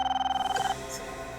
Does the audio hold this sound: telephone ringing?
yes